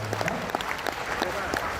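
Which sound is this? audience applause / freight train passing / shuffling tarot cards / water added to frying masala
audience applause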